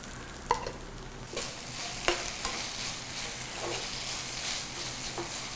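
Marinated chicken frying in oil in a kadai gives a steady, moderately loud sizzle, with a few sharp clinks and scrapes from stirring at irregular moments and no voices.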